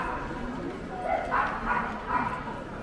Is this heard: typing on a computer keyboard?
no